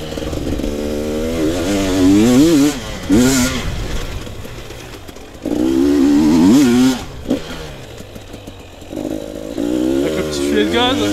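GasGas EC 300 2022 two-stroke dirt bike revving and accelerating through the gears, with rising and falling engine pitch in repeated bursts, loud and close, while a rider talks over it.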